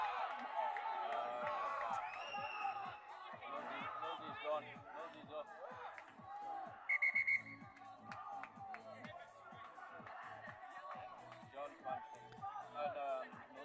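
A referee's whistle shrills briefly and sharply, in two quick blasts, during a rugby match between Dubai Exiles and Dragons RFC, cutting through crowd noise, shouting and running footsteps while a commentator talks.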